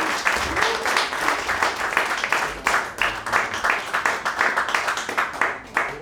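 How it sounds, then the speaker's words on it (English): An audience applauds at a live tribute concert, a steady dense wash of many hands clapping that carries on throughout at fairly close range, with no talk over it. "Can you give another round of applause for Perry for driving all the way out here"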